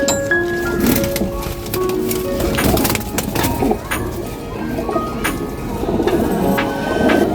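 Pigeons coo repeatedly and close by, soft throaty calls over scattered clatter and rustling, with no talking.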